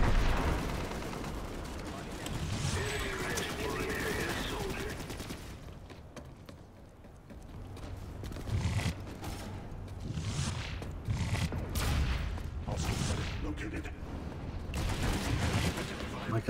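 Video game gunfire sounds as scattered volleys and distant bursts, swelling and fading across a busy battle soundscape while a low rumble runs underneath and voices come in at times.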